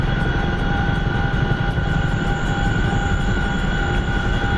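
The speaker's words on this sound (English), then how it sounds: "Let's see if I can land the Chinook without dropping out of the sky" Chinook helicopter engine in a combat video game, a steady loud rotor drone and turbine whine with a continuous rumbling low end, unbroken throughout and close, with no talk.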